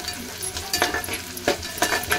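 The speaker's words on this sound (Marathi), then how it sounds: "कांदा आपला लाल होतोय." Onion frying in a pan for mutton curry, with continuous sizzling and repeated clinks of a spoon stirring against the pan, fairly close and loud.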